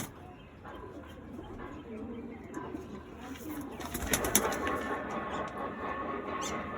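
Pigeons in a Madras pigeon loft give low burbling coos amid rustling and handling noises, growing busier toward the end, with faint voices nearby.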